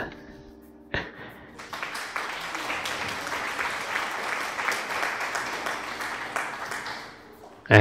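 A burst of crowd applause and clapping in a Farming Simulator 22 game swells after a sharp hit, holding as a loud, dense patter for several seconds before ending abruptly.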